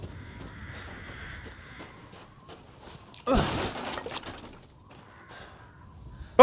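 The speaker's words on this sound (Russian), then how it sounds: "Вороны ничего хорошего не предвещают." Crows in the video game Resident Evil Village caw intermittently at a distance over quiet ambience, broken midway by a sudden loud rustling burst, with no one speaking.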